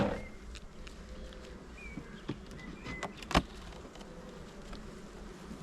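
A swarm colony of honey bees buzzing softly at an open hive lid during an inspection, a faint steady drone with a few louder passes and light handling knocks nearby.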